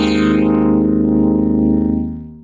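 Qneo voice synth processing a sung vocal phrase through its Strobo Slew effect, giving a loud, sustained robotic tone with stacked buzzy harmonics that smear and hold, then fade out at the end.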